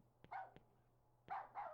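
Faint, distant dog barks in the video game Rule of Rose come in two quick pairs, each bark preceded by a soft click, over a low steady hum.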